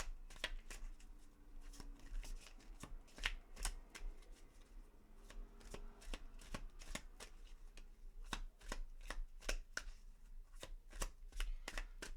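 Tarot cards shuffled repeatedly in a steady run of crisp riffling slaps and flicks, close and fairly quiet, alone with no talking throughout.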